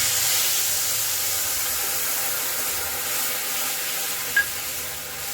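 Steady broadband sizzling hiss from tamarind water in a hot pan, continuous throughout with one brief sharp tick near the end.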